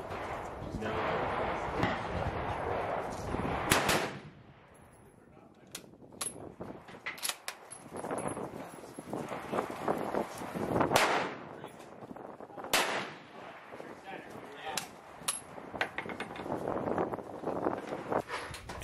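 US Krag Jorgensen rifle firing, a series of sharp reports spaced a few seconds apart amid wind noise, bolt clicks and background rustle, with some voices under the shots.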